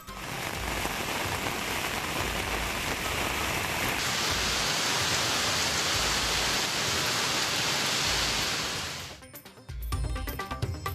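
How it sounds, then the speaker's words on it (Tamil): Summer rain pouring over districts of Tamil Nadu such as Pudukkottai and Thanjavur: a dense, even hiss of heavy rainfall that cuts off abruptly near the end into a brief different background noise. "புதுக்கோட்டை, மயிலாடுதுறை, தஞ்சாவூர், அரியலூர் உள்ளிட்ட மாவட்டங்களில் பெய்த கோடை மழை."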